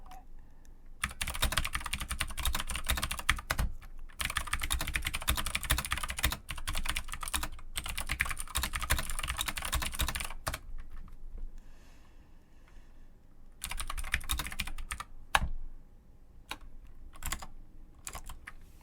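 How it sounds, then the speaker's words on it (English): Rapid computer keyboard typing in several bursts, clattering keys close by, with brief quiet pauses between runs and no talking. "I will leave you out on the sounds of a little bit of keyboard typing"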